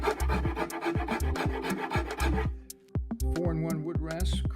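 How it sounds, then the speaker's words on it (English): A wood rasp files rough wood on a handmade toddler's kitchen stool, a rhythmic series of scraping strokes, close and distinct, briefly pausing before the strokes resume. "I'll go ahead and use a wood rasp"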